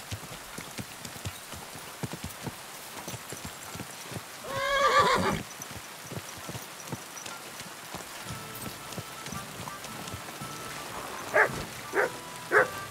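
A single horse whinny rises midway through steady hoof clip-clops in the video game Kingdom Come: Deliverance II, followed later by a few sharp higher calls.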